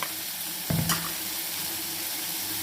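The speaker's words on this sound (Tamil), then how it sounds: "தக்காளி நல்லா வதக்கி விட்டுட்டு இந்த கீரையை வந்து நல்லா இது அலசிட்டு" Tomatoes and spinach sauté in a pan with a continuous frying sizzle, broken once by a brief clatter of stirring or scraping near the start.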